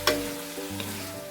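Pork frying in its own rendered fat gives a soft, steady sizzle with a brief louder crackle near the start, heard close up with no talking.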